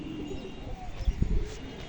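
A female pigeon gives a brief, soft coo close by, a few low throaty pulses near the middle of an otherwise quiet moment.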